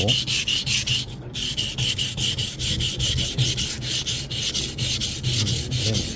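A kitchen knife scraped across a sharpening stone in quick, even back-and-forth strokes, close and loud, with a brief pause partway through.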